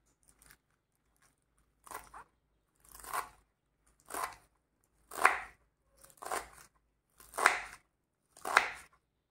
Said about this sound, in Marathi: नंतर ना अशी धरून येणे एकदम बारीक कट करायची.